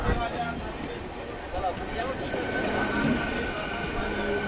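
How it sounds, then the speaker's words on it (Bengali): A local train rolls into a station on the South Eastern Railway line toward Howrah, a steady rumble of wheels and carriages under background crowd chatter. "এই যে লোকাল ট্রেনটা আসছে।"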